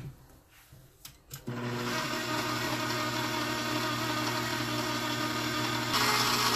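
A kitchen mixer mixes yeast, salt, sugar and milk powder for a bread stuffed with ham and mozzarella. A few light clatters come first, then the motor starts into a loud, steady whirring hum that runs to the end.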